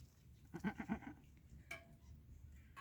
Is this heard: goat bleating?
yes